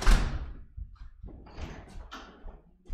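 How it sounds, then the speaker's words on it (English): Household doors are shut quickly one after another, giving a few sharp thuds and bangs at varying distance, with quiet rustling between the impacts. "Closing all the doors as fast as possible."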